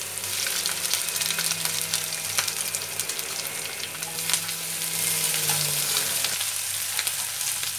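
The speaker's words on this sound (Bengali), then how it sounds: "আদাটা রসুনটা একটু ভাজা ভাজা হয়েছে" Ginger and garlic paste fries in a pan for a dhaba-style mutton curry, making a bright, continuous sizzle up close with light stirring scrapes and a low hum beneath.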